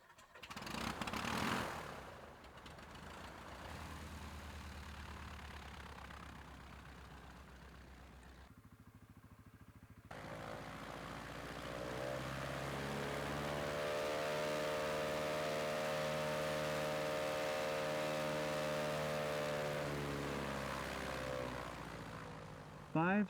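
A light-aircraft engine with a propeller runs steadily at about 2,300 RPM during a static thrust pull test, sputtering up after a brief lull and then holding a loud, even drone with people talking over it.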